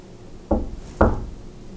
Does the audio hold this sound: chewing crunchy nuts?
no